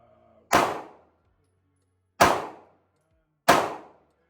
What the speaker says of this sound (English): just to put a couple of rounds through the gun